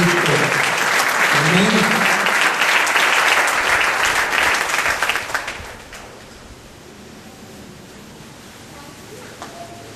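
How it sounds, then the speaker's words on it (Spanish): A church congregation breaks into loud sustained applause during a Spanish-language sermon, the clapping thinning out after about five seconds to a quieter room; a voice speaks briefly. "Entonces denle un aplauso porque usted es más que vencedor en Cristo."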